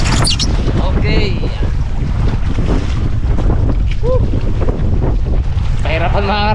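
Strong typhoon wind blasting across the microphone with a heavy, continuous low roar, while people shout and talk over it throughout.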